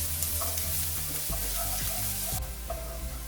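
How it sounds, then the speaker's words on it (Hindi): Chopped onions fry with bay leaves in a pan over a high flame, giving a continuous loud, close sizzle with small crackles and stirring scrapes, and no talking. "अनियंस को हाई फ्लेम में थोड़ा सा ब्राउन होने तक फ्राई कर लेंगे"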